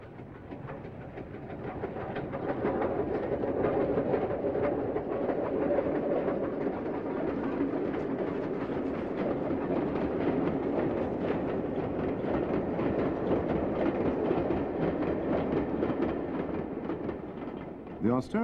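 Steam locomotive 2-10-0 Dame Vera Lynn running on the North Yorkshire Moors Railway, a steady broad rumble with rail clatter that holds at moderate level for the whole stretch, faint birds in the background.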